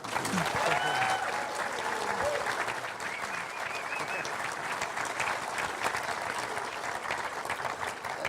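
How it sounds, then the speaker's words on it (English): An audience applauds a panel at a car museum event, sustained even clapping with a couple of faint cheers and voices mixed in near the start. "Can we have a round of applause for them?"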